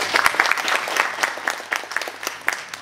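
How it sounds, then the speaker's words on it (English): A brief burst of applause from a modest conference audience, scattered claps fairly close and steady before starting to thin out. "We need to give them a round of applause."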